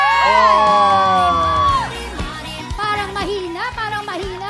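Studio audience on a Filipino TV variety show cheering, whooping and shouting loudly, a sustained roar of many voices with high yells that breaks into scattered shouts.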